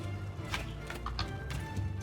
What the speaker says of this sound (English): Horse movement.